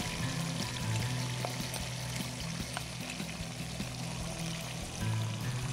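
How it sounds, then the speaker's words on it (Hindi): Watery yogurt liquid is poured into a pot of degi biryani, giving a steady splashing pour that runs for several seconds at moderate level with no talking. "ये दही का जो पानी है ये मैंने इसमें डाला।"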